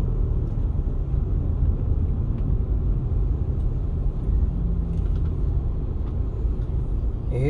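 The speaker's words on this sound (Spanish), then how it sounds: "Que el tapón es muy fuerte, demasiado diría yo. Pero por lo menos está fluyendo el tránsito." Heavy congested traffic on the Autopista Duarte highway in Santo Domingo, heading from Los Alcarrizos toward the Distrito Nacional: a steady, dense low rumble of cars and buses, continuous and moderately loud with no clear individual passes.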